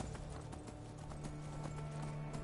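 Horse hooves clip-clop in a steady galloping rhythm in Skyrim, close and continuous, with a faint tonal drone underneath.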